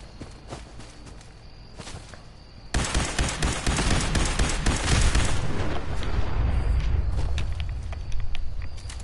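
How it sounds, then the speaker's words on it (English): Gunfire and explosive booms in a video game, a sudden loud burst of rapid shots and rumbling blasts that stays dense and heavy for several seconds after quieter footsteps. "I hear shots."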